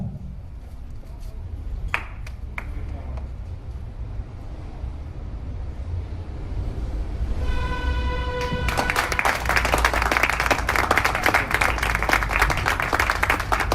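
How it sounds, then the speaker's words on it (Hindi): Applause for an award recipient at a de-addiction pledge event breaks out partway through, a dense crowd clapping that swells and holds after a quieter stretch with a few sharp claps and pings. "जोरदार तालियां होनी चाहिए, जोरदार तालियां"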